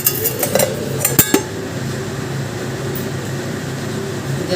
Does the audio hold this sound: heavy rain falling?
no